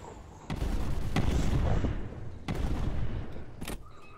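Machine gun fire in the VR war game War Dust, heard as two long, loud bursts of rapid rattling shots, separated by a short gap, with a dense, booming battlefield din throughout.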